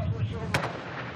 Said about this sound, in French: Premier coup de feu de la journée, tout près.